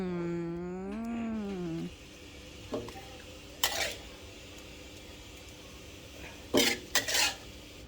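Stir-fried squid in red curry paste being spooned from a pan into a bowl, with a few short clinks and scrapes of a spoon against cookware after a brief voice at the start.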